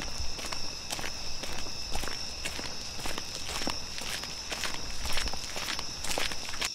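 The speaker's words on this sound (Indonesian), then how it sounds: "Nabi pasti mendengar beberapa langkah kaki di belakangnya." Repeated footsteps in an even walking rhythm, each step crisp and close, continuing steadily over a constant hiss with no voices.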